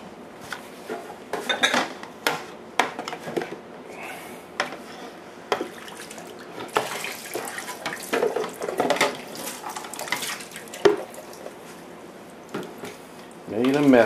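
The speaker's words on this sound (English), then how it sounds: "Now, let me pour some sanitizer back over it again." Sanitizer poured over a fermenter lid in a home kitchen sink, splashing and running water with clinks of dishes and utensils, close and fairly loud, with a person talking at times.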